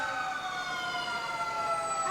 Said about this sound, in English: They love hearing the sirens go off.